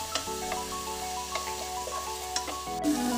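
Spices with chili powder and turmeric sizzle in a pan for a moong dal sprouts curry, a steady frying hiss broken by light stirring scrapes, close and with no talk.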